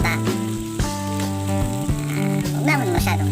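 Native chicken frying in a pan with a steady sizzle that runs the whole time, while a person talks over it close by.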